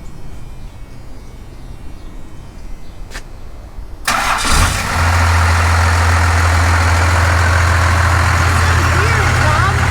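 After a few seconds of quiet, a diesel Cummins engine in a 1978 Dodge crew cab dually cranks and fires, then settles into a loud, steady, clattery idle that continues to the end.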